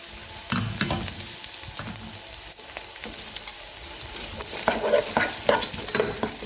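Onion dropped into hot oil for fish rice, frying with a steady crackle and scattered sharp pops that build slightly toward the end, heard close up without talk.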